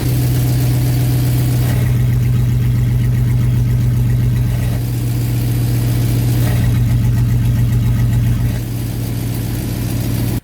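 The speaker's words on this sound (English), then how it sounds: "It sounds almost like a normal vehicle. It's a little bit loud yet because of the valve." A car fitted with a new downpipe, exhaust valve and full muffler idles close by, a steady loud low rumble that shifts slightly in tone a couple of times, with no voices.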